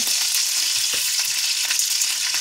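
A filet searing in a pan gives a steady, loud, close sizzle with faint crackles and no voices.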